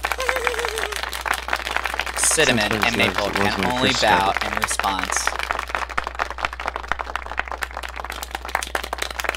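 Thundering applause inside a hall in the Nekopara Vol. 3 video game: a dense, steady wash of clapping runs the whole way through, with a voice speaking over it.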